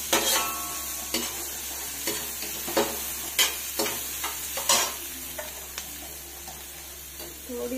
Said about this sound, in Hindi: हल्का सा भून गया है तो इसमें थोड़े से हल्दी डाल देंगे और फिर भून लेंगे इसको